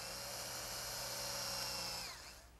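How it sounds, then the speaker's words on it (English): Power drill boring pilot holes into a wooden drop leaf table to fasten the hinged leaves to the top: a faint, steady whirring drone that winds down at the end. "I'll drill some pilot holes to fasten the leaves to the top"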